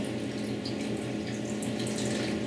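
Hot water from a kettle poured over ramen noodles in a bowl for a vegetable ramen meal kit, a steady close splashing pour that runs without a break and without speech.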